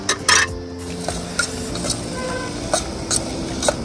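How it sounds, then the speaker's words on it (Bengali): Potatoes sizzling in a pan while Maggi noodles with egg are cooked at a roadside camp, with steady frying hiss punctuated by sharp scrapes and clinks of a utensil stirring against the pot. "ম্যাগি চলছে বানানো, আলু ভাজা হচ্ছে, ডিম দিয়ে ম্যাগি।"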